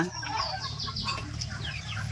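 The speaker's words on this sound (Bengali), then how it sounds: "আজকে চীনা হাঁসকে খাইতে দিছি কচুরিপানা" Chinese ducks fed water hyacinth call nearby with rapid, raspy, overlapping clucking and chattering notes, busy and continuous over a low rumble.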